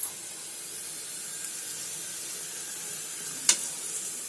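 Stuffed eggplants fry on low heat in a kadhai, a faint, steady hiss of oil that carries on throughout, broken by one sharp clink near the end.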